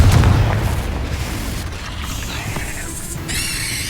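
A Confringo blast spell explodes in Hogwarts Legacy, a loud booming burst with heavy low rumble that fades into a sustained roar of game effects and mechanisms.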